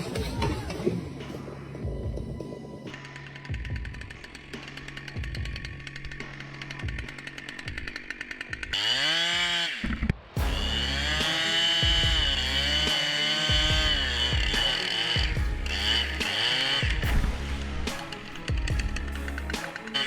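Chainsaw cutting a tree, a loud rasping engine buzz with repeated revs and pitch sweeps as the blade bites, briefly dropping out before roaring back steadily.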